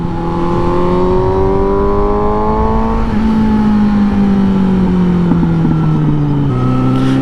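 A Suzuki GSX 750 motorcycle revs loud and close while cruising, its engine pitch climbing and dropping in steady sweeps, with a few faint exhaust pops breaking through the continuous drone.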